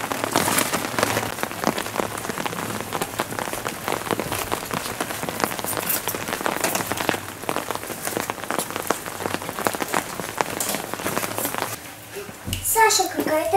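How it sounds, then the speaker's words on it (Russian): Steady rain patters and splashes loudly on surfaces nearby, a dense continuous hiss with scattered drips, as a voice speaks faintly underneath. "На дворе идет дождь"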